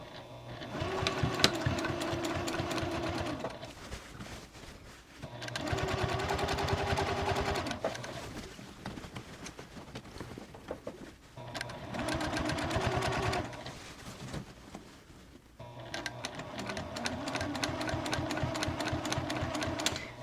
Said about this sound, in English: Back to a 3 millimeter stitch length, going 1/8 of an inch in from the fold.